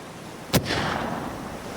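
A single sharp gunshot from hunters nearby, one sudden crack in an outdoor setting followed by a short echoing tail over steady background ambience.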